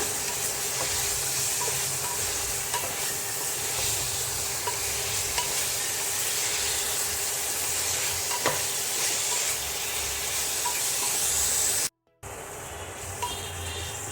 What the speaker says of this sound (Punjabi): ਹੁਣ ਮੈਂ ਪਾ ਦਵਾਂਗੀ ਆਲੂ ਆਲੂ ਪਾ ਕੇ ਪਕਣ ਦੇ ਤਰ੍ਹਾਂ ਤੇ ਚਾਰ ਮਿੰਟ ਵਾਸਤੇ ਇਹਨੂੰ ਹੋਰ ਭੁੰਨ ਲੈਣੇ ਆ